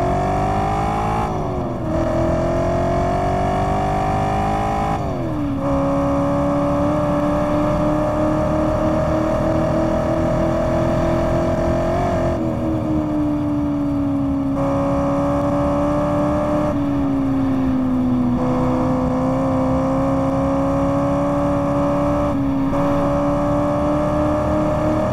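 Chevrolet Corvette Z06 engine in Test Drive Unlimited, loud and continuous, rising through the gears with short dips at each shift as it accelerates down a long straight, with no talk over it.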